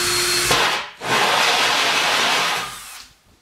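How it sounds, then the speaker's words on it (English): A power drill with a hole saw whines up close as it bores into a wooden kitchen cabinet, stops briefly, then grinds through again before winding down. "I'm going to drill some holes around the edge"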